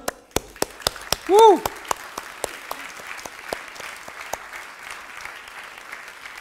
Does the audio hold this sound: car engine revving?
no